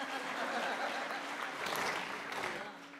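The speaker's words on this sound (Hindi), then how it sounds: "बजा दो ताली एक बार।" Spectators at a Holi comic poetry gathering clap together, a fairly soft, sustained round of applause that fades toward the end, with faint murmurs and a hint of laughter underneath.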